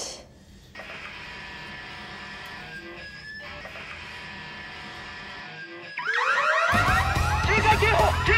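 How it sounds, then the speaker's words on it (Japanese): An electronic alert alarm sounds in a steady repeating pattern, then a louder, harsher blaring alarm with sweeping tones bursts in during the final seconds, with no talking. "警戒警報！ 警戒警報！"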